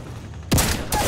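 Sentinel sniper rifle shots in Apex Legends Mobile: two sharp, loud reports about half a second apart, each cutting in abruptly with a heavy, booming tail.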